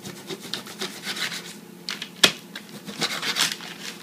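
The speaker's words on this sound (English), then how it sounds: "And while I'm cutting this up, you see it opens up almost like a tenderloin. And we're going to just cut it into chunks." Knife cutting meat into chunks on a board for Cuban carne guisada, a series of soft scraping, rubbing strokes with one sharp tap partway through, close and fairly quiet.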